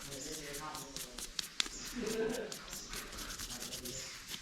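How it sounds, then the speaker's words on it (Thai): Scrubbing around the firing pin of a CZ 457 .22 LR training rifle during cleaning, a close, dry rasping rub repeated in quick back-and-forth strokes, with someone talking over it. "ถูตรงตรงนี้ครับ ตรงที่ว่าเข็มแทงชนวนครับ ถูให้หมดเลยครับ"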